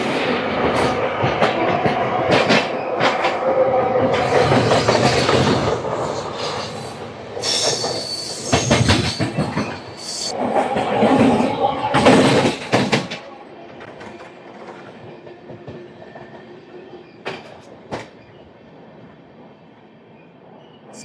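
An express train, 17221 Kakinada Port to Mumbai, runs through Nidadavolu Junction without stopping, its wheels squealing loudly and rumbling for about thirteen seconds before the noise drops to a quieter rolling hum with a few sharp clanks.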